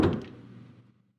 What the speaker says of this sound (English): So I closed the door and turned around.